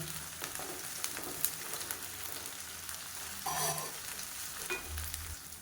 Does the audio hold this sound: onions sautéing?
yes